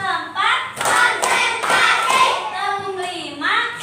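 Schoolchildren clap in a counted classroom routine, sharp bursts of hand claps in short groups, with an adult voice talking between and over them.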